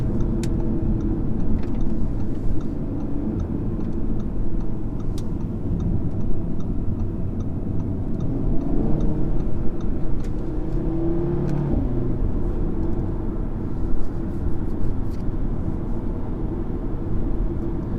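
A deep, steady engine rumble from a 2017 Audi RS3 saloon with a low throbbing thrum, sustained at moderate loudness without much change in revs.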